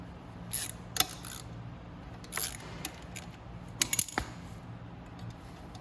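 A 10 mm socket loosening the shifter bolt on a Venom Sportster 250cc chopper gives a few sharp metallic clicks and ratchet-like taps against a low steady background, close and fairly quiet.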